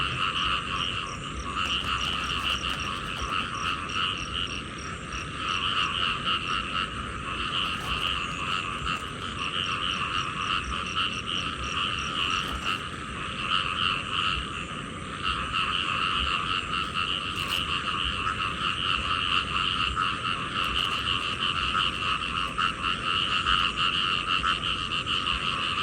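Dense chorus of frogs croaking without pause in a rice paddy at night, steady and loud throughout, with no voices.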